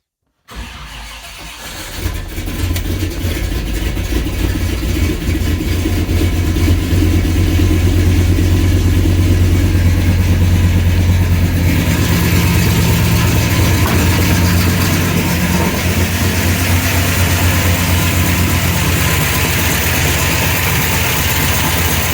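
A car fitted with a Holley Sniper 2 EFI, its alternator belt removed, cranks and fires, then settles into a steady, loud idle that runs on unchanged for about twenty seconds, with no voices.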